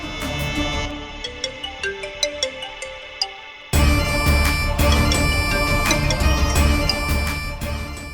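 A phone ringtone plays as a quiet, plinking melody and then swells abruptly into a fuller, louder tune halfway through, with no voices over it.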